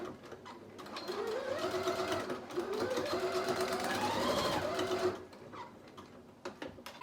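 Sewing machine running a short reverse backstitch while finishing a small cloth pouch, a steady fast whirring stitch sound for about four seconds, close and clear, with faint handling clicks before and after.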